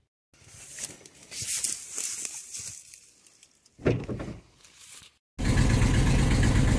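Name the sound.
engine idling just after being started, possible exhaust leak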